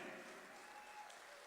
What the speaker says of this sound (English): Keep that applause going for the sacrifice these family members are making.